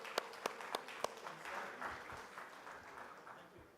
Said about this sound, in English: Let's give the panel a big round of applause.